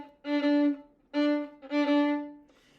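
A violin plays a quick shifting slide in a Wohlfahrt étude, going from 4th finger D in first position to 2nd finger D in third position, as a few short bowed notes with small gaps, close and unaccompanied.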